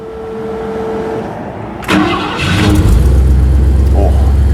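A 1968 Ford Mustang engine with Sniper fuel injection cranks briefly, catches and fires up, settling into a loud, steady idle rumble close by.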